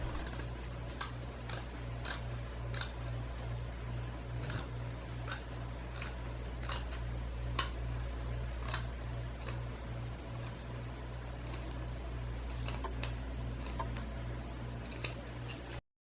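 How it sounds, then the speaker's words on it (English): Fabric scissors snip through costume fabric in a series of crisp, fairly regular cuts, close and clear over a steady low hum of a fan or appliance, with no talking. "definitely use fabric scissors if you have them"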